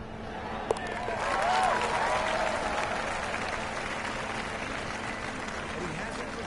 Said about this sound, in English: Oh, you've got to applaud him there, though.